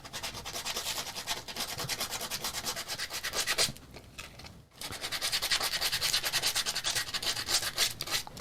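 Heavy-grit sandpaper scrubs a wooden coaster in fast, even back-and-forth rasping strokes, close up, with a brief pause partway through before the strokes resume.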